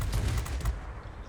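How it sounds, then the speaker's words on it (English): Rapid automatic cannon fire from a Shenyang JL-1A fighter in World of Warplanes, a loud, dense burst that stops partway through, leaving a dull rumble behind. "These cannons do overheat quickly, so you do have to kind of go easy on the trigger there."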